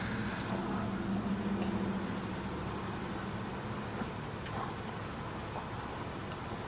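A warmed-up 2013 Honda Accord with a suspected misfire or torque converter fault drives along, giving a steady low engine and road drone inside the cabin with faint intermittent ticks.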